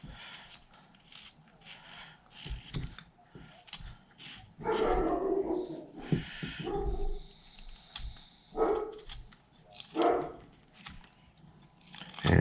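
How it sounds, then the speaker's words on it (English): Guard dogs bark downstairs below a wood-carving studio, several muffled, moderately distant barks in irregular bursts with quiet pauses between them. "And if you hear the dogs barking,"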